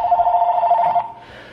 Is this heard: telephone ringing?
yes